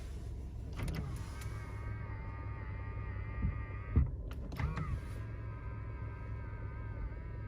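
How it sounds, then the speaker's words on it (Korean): Power-folding side mirrors on a used Hyundai i30 whirring as their motors run, a faint steady electric hum with soft clicks and a small clunk partway through, over quiet car ambience. "접이식 사이드 미러"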